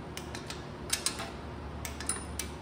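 A torque wrench ratchets in quick, faint clicks while tightening the tray bolts on a 2006 Chevy Silverado 5.3L engine, close and light over a quiet background.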